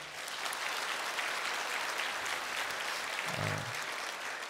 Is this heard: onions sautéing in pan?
no